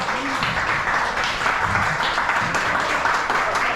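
Crowd applause for two contestants called to the center of the ring at an OYF GP match, a thick, continuous wash of clapping from a sizeable audience, fairly loud and steady throughout.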